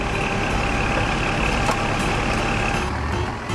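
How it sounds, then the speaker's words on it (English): A recycling truck rumbles loud and close, its engine droning steadily with faint reversing beeps running underneath. "I'm the recycling truck."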